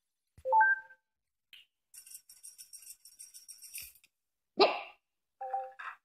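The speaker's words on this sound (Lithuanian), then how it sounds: "Atsiprašau už keistus garsus, nes turiu šuniuką 3 mėnesių" A three-month-old puppy gives a few short, high yips, separated by gaps and mixed with light electronic pings and chimes.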